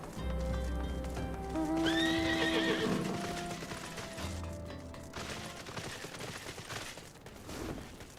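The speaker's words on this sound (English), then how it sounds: "look at you and your fancy flying horse" A video game horse, a flying mount in Final Fantasy, whinnies loudly and shrilly over a low rumbling background, followed by softer hoof and mechanical clatter.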